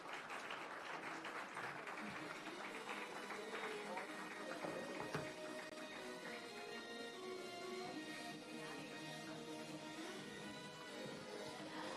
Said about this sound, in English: Let's keep the claps going,